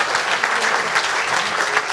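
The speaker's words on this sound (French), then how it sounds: "Vous pouvez les applaudir bien chaleureusement." An audience at an awards ceremony claps warmly, dense sustained applause filling the room at full volume, with no pause and a faint voice barely under it.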